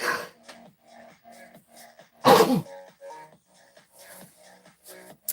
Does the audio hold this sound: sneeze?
yes